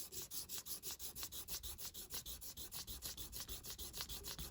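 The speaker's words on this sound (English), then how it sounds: "On this watch, let's start with 800. And all we're going to do is sand it for a couple minutes." An antique Gruen watch case is sanded with 800 grit sandpaper in quick regular back-and-forth strokes, a soft close rhythmic rasp with no talk.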